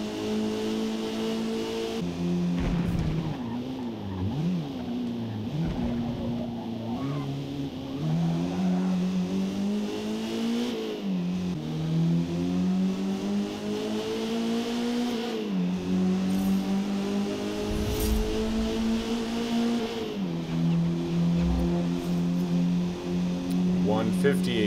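Race car engine in Forza Motorsport revving up and down through gear changes on a track lap, a loud continuous tonal drone rising in pitch repeatedly, with someone talking over it throughout.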